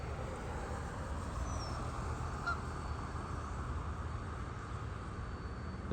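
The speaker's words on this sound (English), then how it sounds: "They're talking back and forth to each other." Far-off geese on a still lake trade a couple of brief honks, faint and sparse over a steady low background wash, with no voices present.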